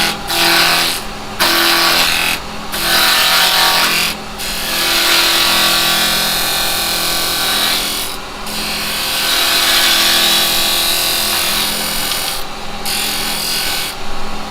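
Carbide chisel cutting a spinning wooden blank on a wood lathe, taking off the square edges in a steady loud rasping roar broken by several short pauses, with no talk.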